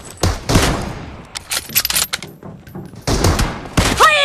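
Gunfire in a PUBG Mobile team deathmatch, including Kar98 sniper rifle shots, comes as loud, sharp bursts spaced across the moment with a brief metallic ring near the end.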